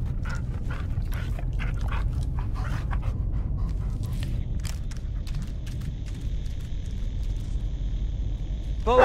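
Dog panting with occasional soft whimpers in the Blair Witch video game, a steady close breathing rhythm over a low rumbling ambience for the whole stretch, with a brief louder sound at the very end.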